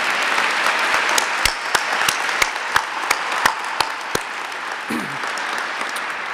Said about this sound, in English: let's clap it up for the middle schoolers one more time